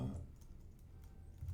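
Soft, faint clicks of a computer keyboard as a git command is typed, a brief quiet patter of keystrokes.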